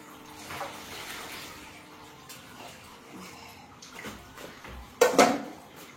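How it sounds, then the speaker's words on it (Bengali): Water gushes out forcefully like a running tap, a steady splashing flow heard close. It swells into a brief, louder surge near the end. "ঠিক একদম কলের পানির মতো বের হয়।"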